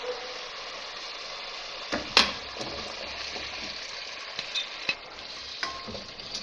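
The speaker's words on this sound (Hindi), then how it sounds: "अब ये वेजिटेबल डाल रही हूँ इसमें" Vegetables drop into frying masala in a pan with a sudden clatter, then a steady sizzle of oil and scraping stirs with occasional knocks against the pan.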